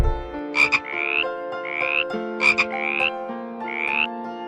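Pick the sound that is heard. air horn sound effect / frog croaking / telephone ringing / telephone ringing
frog croaking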